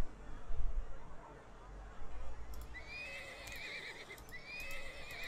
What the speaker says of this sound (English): They're actually called Przewalski's wild horses.